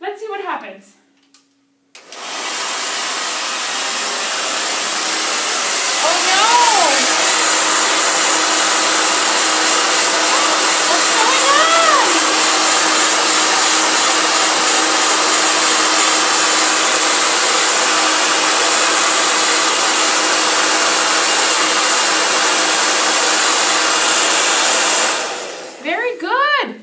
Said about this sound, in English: Let's try and see if my hairdryer is fast enough to melt the crayons.